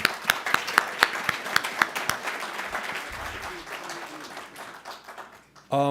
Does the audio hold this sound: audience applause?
yes